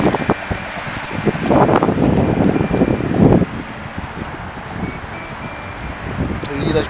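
Gusty wind sweeps the Vistula riverbank in Warsaw while fishing rods sway, a rough low rumbling roar that swells in the first half and then eases, with someone talking through it.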